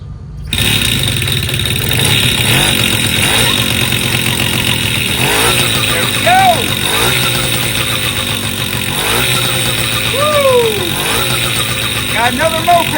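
An old Puch moped engine, just repaired, runs steadily close by with a constant buzzing drone, while occasional talk and short squeaky sounds come over the top.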